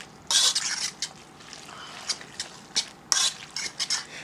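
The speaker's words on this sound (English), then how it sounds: "Now we're going to mix it all up." Orange teriyaki chicken ingredients being stirred and tossed together in a bowl, with bursts of scraping and clattering utensil strokes in irregular clusters, fairly close and moderately loud.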